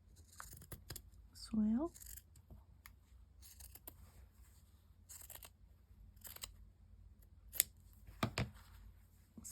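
Paper for a junk journal is trimmed with scissors in short, sparse snips, each crisp blade cut close and distinct, with a brief spoken remark and some quiet handling noise between the cuts.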